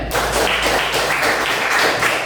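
A class of students applauds in a classroom, with steady, close, loud clapping that keeps going for the whole moment.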